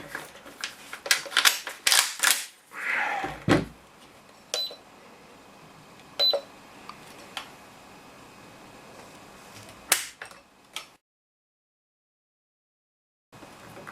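Several crisp mechanical clicks from a Revo Tactical pump-action airsoft shotgun with a polymer trigger guard as its trigger is pulled, close and sharp, with a louder cluster early and scattered clicks later, then silence near the end.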